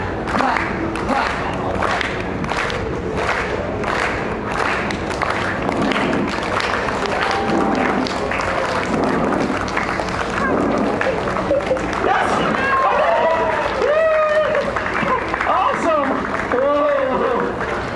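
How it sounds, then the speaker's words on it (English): An audience claps in a slow, even rhythm, with regular evenly spaced beats through the first half before the claps blur into looser crowd noise and someone talking over them. "If we could get a slow, rhythmic clap from everyone."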